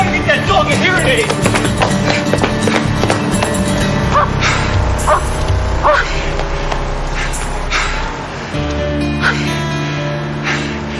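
Diefenbaker, a dog in the Due South TV series, barks a few times in short bursts among shouting voices and busy background noise.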